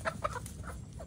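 Native chickens feeding on grass at a company farm, clucking in short close bursts against a low ambient background.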